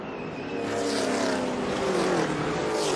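NASCAR stock cars roar around the track at speed with slower traffic ahead. Engine noise builds into a loud, sustained snarl as the cars sweep past, and the pitch rises and falls.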